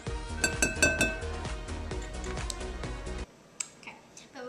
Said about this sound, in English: Just going to whisk this together.